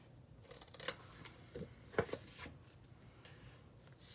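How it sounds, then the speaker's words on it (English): Scissors cut paper in a few quiet snips, soft and close with gaps between the cuts. "and then I'm gonna cut this one like that, this one like that."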